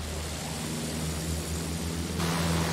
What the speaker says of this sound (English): Enemy plane up there.